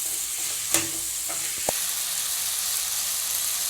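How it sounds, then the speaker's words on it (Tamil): Chopped bottle gourd frying and being stirred in a pan for a Tamil kuzhambu, a steady soft sizzle with a few sharp utensil scrapes near the start, close and alone. "சொரக்காய் போட்டு நல்லா கிளறி விடுங்க."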